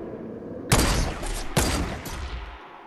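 Two loud, sharp rifle shots from a sniper in a Fortnite battle royale match crack out about a second apart, each followed by a broad rumbling tail.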